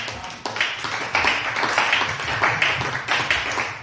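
A church congregation claps to acclaim the Lord. The applause is dense and rhythmic, with faint cheering and some voices mixed in, and stays steady and close throughout.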